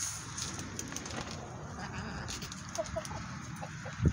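Faint, scattered clucks from year-old hens over a steady, low farmyard rumble, with no voices.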